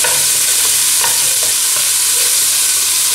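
Garlic and chopped coriander fry in heated olive oil in a heavy-bottomed pot, giving a steady loud sizzle with a few soft stirring scrapes and no talking.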